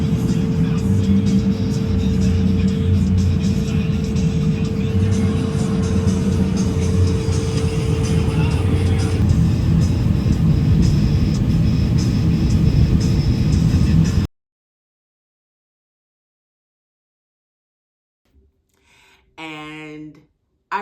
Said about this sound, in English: I'm on New Jersey Turnpike and now AAA, I'm in a tow truck